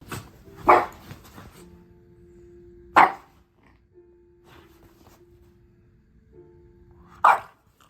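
A dog barks a few times in sharp, separated bursts, moderately close, with quiet low humming in between.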